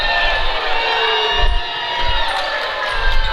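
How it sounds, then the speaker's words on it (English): A gym crowd cheers and shouts loudly and steadily throughout a girls' high school basketball game, with a mixed roar of excitement and groans and a few sneaker and ball sounds underneath. "You gotta love the madness when you have one side of the gym cheering and the other side of the gym unhappy."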